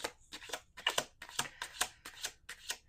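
A quick series of oracle card riffles, about eight short crisp bursts in a steady rhythm, close by with quiet room tone between.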